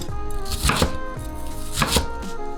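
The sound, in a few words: knife chopping onion into large chunks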